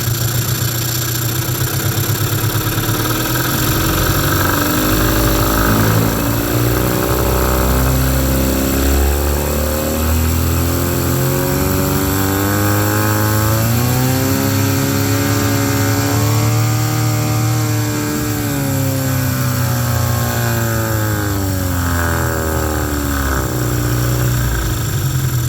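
A 1997/98 Mercury 15hp long-shaft two-stroke outboard motor in gear runs steadily and loudly throughout, its pitch rising gradually as the throttle is slowly opened, with harmonic engine whine sweeping upward mid-way.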